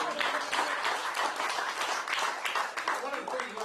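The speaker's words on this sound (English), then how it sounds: "give them another round of applause" A crowd at a speaking event on an Indiana farm applauds, with dense, even clapping holding steady throughout and a faint murmur beneath it.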